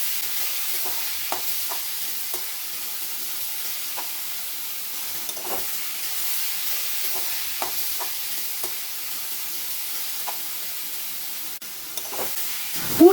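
Egg-dipped teasel gourd (kakrol) fillings fry in hot oil for a vegetarian kabiraji, giving a steady soft sizzle with faint crackles and small pops throughout, close and alone with no voices.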